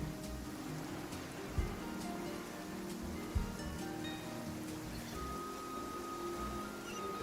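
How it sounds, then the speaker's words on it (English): Heavy rain falls steadily in the Genshin Impact video game, a dense, even hiss of drops with a couple of soft thuds, continuous and moderately quiet. "This heavy rain must be quite an inconvenience for you."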